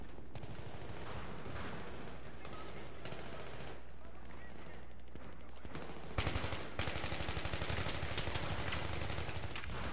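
Gunfire in the video game Battlefield 3 during a team deathmatch, with rapid automatic bursts and shots behind background noise that swell into louder sustained firing near the end.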